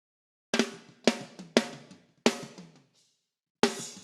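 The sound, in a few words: audio through SSL compressor with fast attack mode on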